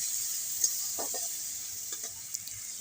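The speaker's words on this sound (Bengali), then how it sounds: "কাঁচা লঙ্কা সব কিন্তু একবারে দিয়ে দিলাম তেলের মধ্যে।" Green chillies frying in oil in a home kitchen, a steady soft sizzling hiss with a few faint clicks of stirring, quiet and close with no talk.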